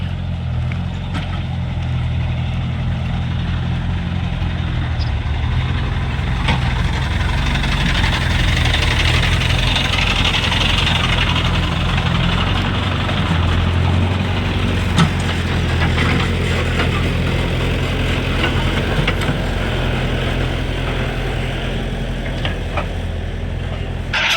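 A vehicle engine runs steadily on a metalled road, a low continuous hum with light vibration throughout, close by and with no talking.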